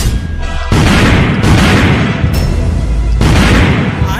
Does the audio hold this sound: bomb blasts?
yes